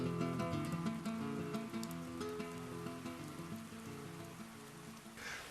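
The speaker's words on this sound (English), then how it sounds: "It's pouring with rain out there, but we're dry in here." Heavy rain pouring steadily outside a rock overhang, a dense continuous hiss of falling water heard from a sheltered spot, with no talk.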